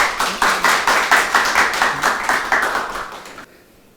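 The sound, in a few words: audience applause welcoming speaker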